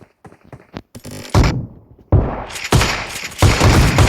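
Gunfire in a PUBG match: a scatter of sharp reports early on, then several heavy, loud shots or impacts in close succession, ringing up close and alone with no voices.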